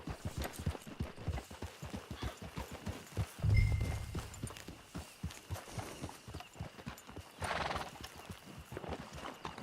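A horse in the Red Dead Online video game clip-clops along in a steady hoofbeat rhythm, with a loud neigh partway through and a brief whinny later, moderately close.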